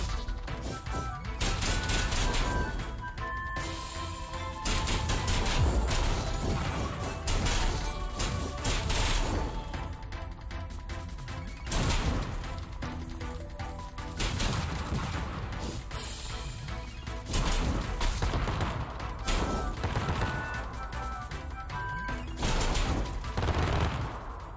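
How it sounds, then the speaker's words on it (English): Bombs repeatedly exploding on bugs in a mine in the action RPG CrossCode, a long barrage of booms and crackling blasts arriving in clustered waves, fairly loud and continuous throughout. "The bombs are back online, and it seems like you already got the hang of the explosive bug extermination."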